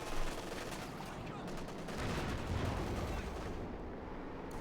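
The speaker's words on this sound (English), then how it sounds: "the machine gun and the main gun" Sustained machine gun and heavy tank gun fire in the World War II strategy game Company of Heroes 2, a dense rumbling barrage of overlapping shots and booms at moderate distance, steady throughout.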